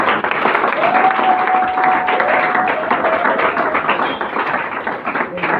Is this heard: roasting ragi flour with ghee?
no